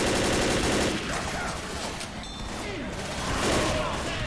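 Rapid assault rifle fire from a Left 4 Dead zombie shooter, dense bursts of shots loud and close throughout, with speech partly mixed in.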